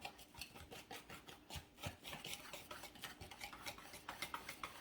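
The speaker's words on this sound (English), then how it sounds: "We're going to whisk this together." A whisk beats pancake batter in a bowl with quick, rhythmic scraping and tapping strokes, steady and close throughout, with no voices.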